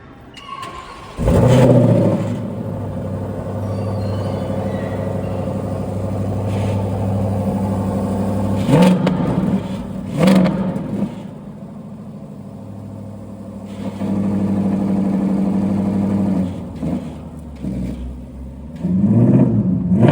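A road-legal Mustang GT3 race car with license plates and spoilers starts up and drives off, its engine rumbling low and steady with repeated loud revs and throttle blips, close by throughout.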